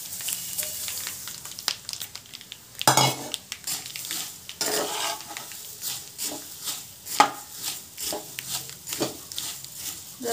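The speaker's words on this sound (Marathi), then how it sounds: "जरासं फिरवून घेऊया।" Spicy puffed rice (murmura) with curry leaves stirred in a pan, a steady scraping and rustling of the dry grains against metal with irregular clatters of the spoon, close and moderately loud, with no talking.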